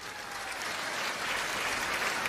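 Dense, continuous clapping from a large seated audience at a Hindu religious assembly, sustained and fairly loud throughout with no voices standing out.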